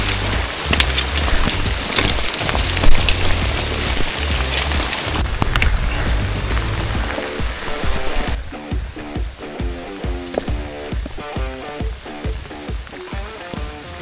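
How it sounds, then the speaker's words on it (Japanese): Heavy rain pouring down on a mountain trail during a climb toward Yarigatake, a dense loud hiss with close crackling drops that thins partway through into a sparser patter with rhythmic footsteps or rustling. "雨がねすごい強いので普通にびしゃ濡れです。"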